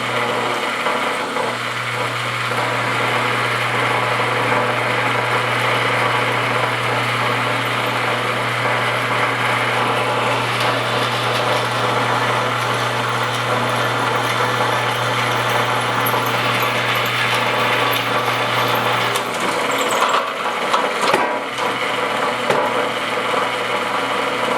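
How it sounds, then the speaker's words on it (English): A power drill whirs continuously at a steady pitch drilling metal for shop window security bars, then cuts out, leaving a quieter hum with a few clanks. "just a little drilling."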